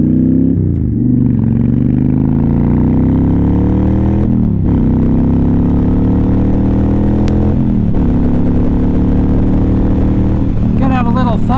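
A loud Honda Shadow motorcycle engine revs and accelerates up through several gears, its pitch climbing steadily and dropping at each shift, heard close by.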